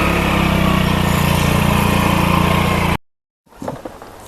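A small motorbike engine runs loud and close with a steady, buzzing idle for about three seconds, then cuts abruptly to silence before faint knocks and handling sounds follow.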